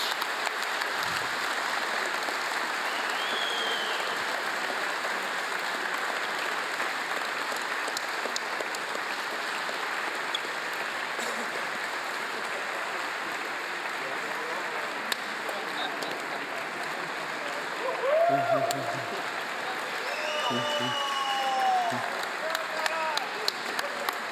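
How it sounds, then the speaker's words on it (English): Sustained applause from a conference audience at a cloud-native Java keynote, steady and moderately loud throughout, with a few brief voices and whoops rising near the end. "So please give me a round of applause for all of them as well."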